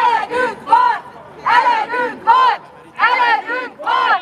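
A protest crowd at a Hungarian blockade demonstration begins to move off, loud voices rising in repeated bursts of shouting and chanting with short pauses between them, close and filling the whole stretch.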